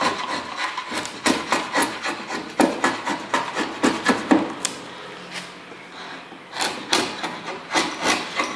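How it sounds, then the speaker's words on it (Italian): Chisel paring the chamfer off a wooden picture frame: a quick run of sharp scraping, rasping strokes in irregular bursts, close and fairly loud, pausing briefly midway before resuming. "Vedete come mi servo dello scalpello per togliere la smussatura, perché la pialla qui dentro non entra facilmente"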